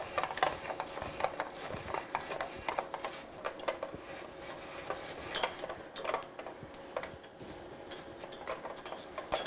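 Hand-crank spiralizer cutting a long carrot into spirals, a close, irregular run of clicking, scraping and crunching ticks as the handle turns, with no talking.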